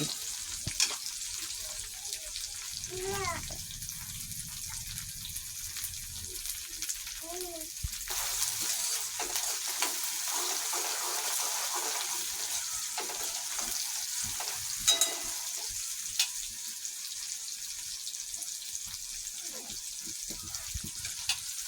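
Peas and vegetables frying in a pan for Kathiyawadi baingan bharta give a steady, loud sizzle that runs throughout, broken by occasional stirring scrapes and a few clinks, while a voice talks over it.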